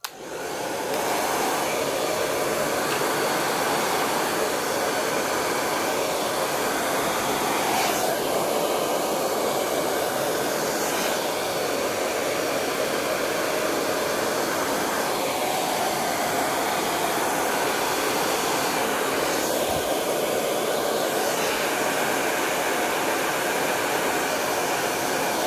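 A hair dryer blows hot air over a watercolour painting in one continuous, loud, steady roar that lasts the whole stretch with no pauses.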